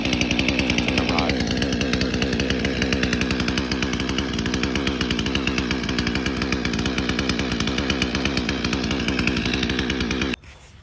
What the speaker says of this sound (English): I'm gonna use the chainsaw to get some of that big piece, the big side of the wood out